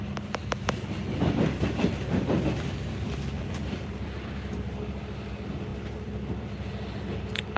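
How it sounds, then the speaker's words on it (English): A train rolls along the rails with a steady low rumble and a rhythmic clickety-clack, heard from inside a crowded carriage, with a few sharp clicks near the start. "I'm on the train."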